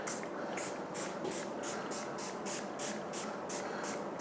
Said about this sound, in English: so we'll spray it on.